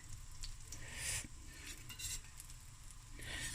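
French toast frying in butter in a pan, a steady close sizzle with brief brighter bursts as the bread shifts, and no talking.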